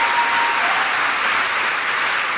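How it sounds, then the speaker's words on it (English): A church congregation claps hands together in praise of Jesus during a healing service, a steady dense wash of applause that stays even and loud throughout. "Let's clap our hands for Jesus"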